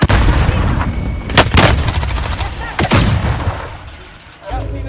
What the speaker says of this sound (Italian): C'è un altro team ancora che spara quello lì